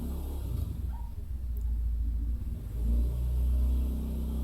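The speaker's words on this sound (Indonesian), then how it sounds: "Kita menunggu karena ada suara motor lewat." A motorcycle goes by in a narrow residential alley, its engine rumbling low and nearby, then swelling louder toward the end as it revs past.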